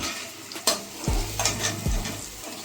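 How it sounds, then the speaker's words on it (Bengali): Potatoes fry in oil in a pan until reddish, with a steady close sizzle broken by a few scraping stirs of a spatula and a brief clack against the pan. "এখানে আমার আলু প্রায় লাল লাল করে ভাজা হয়ে গেছে"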